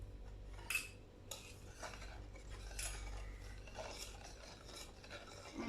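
Cake batter stirred in a bowl after melted butter goes in, with scraping and clinking of a spoon against the bowl in an irregular rhythm, close and quiet, no talk.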